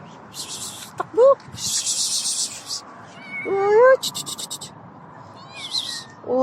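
A cat meows several times in short, rising and falling calls spread across a busy market scene, loud and close, with bursts of scratchy noise between them and a person voicing a playful imitation of the meow.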